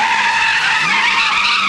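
A 350-horsepower car slides sideways with a loud, sustained tire squeal and engine roar, close and steady throughout with no pauses.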